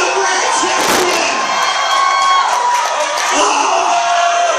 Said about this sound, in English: Keep clapping. Keep screaming.